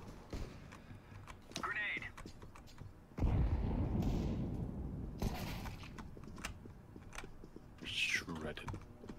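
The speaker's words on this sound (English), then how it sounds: "That's fine, here we go. Grenade." A grenade explodes in the video game CS:GO, landing as a sudden broadband burst that rumbles for about two seconds, amid quiet keyboard clicks and clatter with voices talking before and after.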